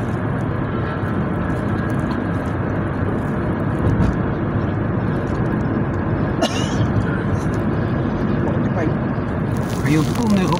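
An airplane passes overhead near NAIA, a broad, steady roar heard from inside a car on the Skyway, blended with road and cabin rumble that swells slightly toward the end.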